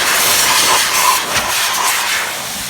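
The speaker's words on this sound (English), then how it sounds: "I'm going to get the shop vac and blow that out one more time" A shop vac blows air out of a spark plug well on a 2007 Ford Mustang GT, a steady loud close-up hiss of rushing air lasting throughout with no pauses.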